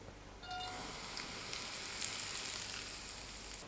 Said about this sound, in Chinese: 碗中放入2小勺面粉， 浇入刚烧好的花椒油